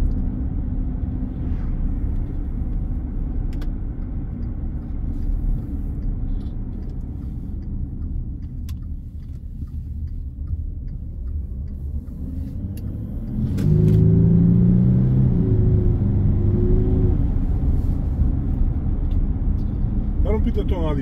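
A Volkswagen Touareg with a 3-litre engine is heard from inside the car, first a low steady cruising rumble, then a louder droning rise as it accelerates, with occasional talk.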